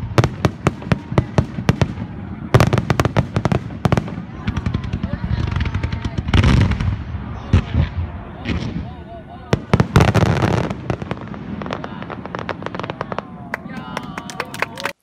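Fireworks display in Japan, a long run of sharp bangs and crackling bursts, some in rapid clusters like gunfire, loud and close with steady ambient rumble between, and faint voices in the background.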